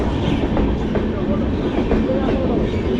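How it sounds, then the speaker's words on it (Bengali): Humsafar Express pulling out of a station, a dense continuous rolling rumble with faint rhythmic wheel clatter, close and loud, with a voice under the noise. "এই চলে যাচ্ছে আমাদের হামসাফার এক্সপ্রেস।"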